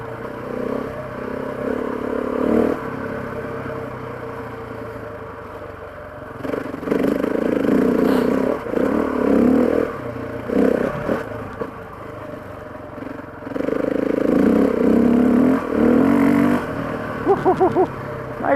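KTM 690 or Husqvarna 701 single-cylinder motorcycle ridden with a quick shifter, engine droning and rising in surges with brief gaps between, wind and road rumble throughout, fairly close and steady.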